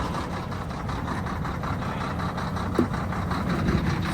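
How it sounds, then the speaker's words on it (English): A Volvo semi truck diesel engine idles after a cold winter start, a steady low rumble with a rhythmic pulse throughout, with a faint clunk near the end and no talk. "Volvo engine is pretty good in the winter."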